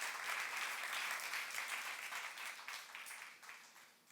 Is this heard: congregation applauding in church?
yes